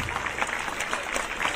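An audience at a school judo demonstration claps steadily in a brief, dense burst of applause.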